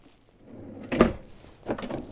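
Cabinet drawers in an Airstream Flying Cloud 27FB travel trailer slide open and shut, giving a wooden rolling rumble, a firm thunk near the middle, then another slide, close by and with no talk.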